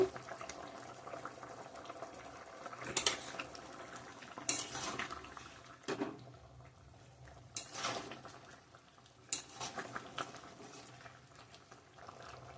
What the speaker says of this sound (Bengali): ঝোলটা ভালো করে ফুটে গিয়েছে